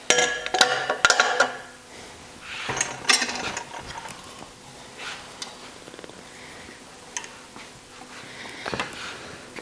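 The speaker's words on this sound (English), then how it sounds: "So I've got my tool in and I've tightened the side cover." Tightening the side cover on a Porsche 902 transmission during a rebuild with a VW-385 tool: a few close ratcheting clicks and metallic clanks, busiest at the start, then sparse knocks and handling noises.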